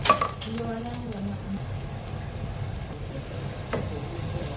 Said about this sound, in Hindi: ये खड़े मसाले आपने डाल लेने आपको, जो प्याज को ब्राउन करने के बाद।